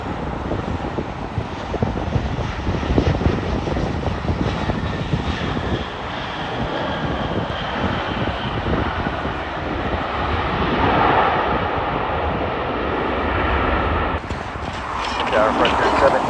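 Jet airliners at Los Angeles International Airport roar steadily through the whole stretch, a broad continuous engine rumble with some wind buffeting on the microphone, strongest near the end.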